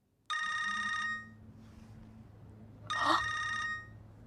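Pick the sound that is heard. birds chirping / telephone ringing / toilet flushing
telephone ringing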